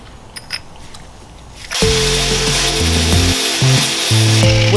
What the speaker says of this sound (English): So I'm grinding down the sides of it so it slots right in so we can tighten these and be done with it.